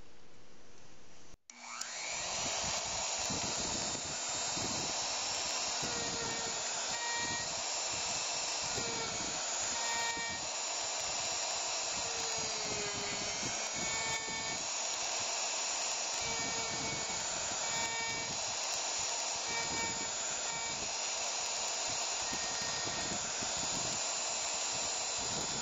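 A router carves the concave bowl of a wooden spoon, its loud, steady motor whine starting abruptly after a brief quiet moment and running unbroken to the end, with faint shifts in pitch as the cut progresses.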